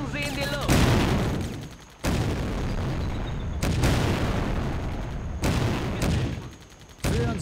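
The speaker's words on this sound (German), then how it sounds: "Wir sprengen sie in die Luft." Heavy explosions and bursts of gunfire in the Blitzkrieg 2 war strategy game, coming as loud booming blasts with rattling shots that cut in and out abruptly several times, close and dense.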